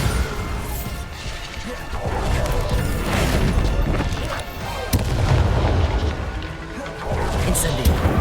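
Bombarda blasting spell from Hogwarts Legacy going off in combat, heavy booming explosions and crashing impacts repeating over several seconds, loud and close amid other game noise, with a voice calling out in between.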